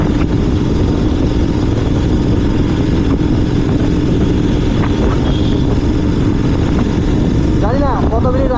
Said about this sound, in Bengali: আর এক্সজস্ট নোটটা তোমরা শুনতেই পাচ্ছ কীরকম এক্সজস্ট নোট দিচ্ছে